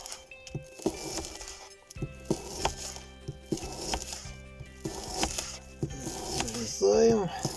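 A knife cuts through sausages on a board in a dugout shelter: irregular close taps and soft thuds with faint background clatter.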